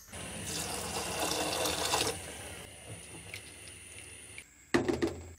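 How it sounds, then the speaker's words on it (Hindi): A glass of water pours steadily into a pot of chole gravy for about two seconds, then trickles off, followed by a couple of sharp metallic clatters near the end. "अब हम इसमें 1 गिलास पानी और शामिल करेंगे।"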